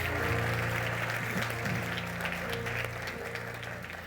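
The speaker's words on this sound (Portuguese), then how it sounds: "e aplauda ao Senhor" A church congregation applauds during a Portuguese-language service, a full, continuous roll of clapping from many people over sustained low tones from an organ or keyboard, with no speech.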